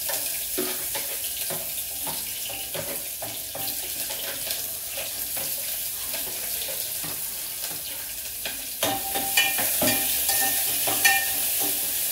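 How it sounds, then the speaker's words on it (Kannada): Spices temper in hot oil for leftover-rice chitranna, sizzling steadily close by while a spoon stirs and clinks against the pan. The sizzle grows louder and busier near the end, with no talking. "ಇವಾಗ ಒಗ್ಗರಣೆ ಹಾಕ್ತಾ ಇದ್ದೀನಿ."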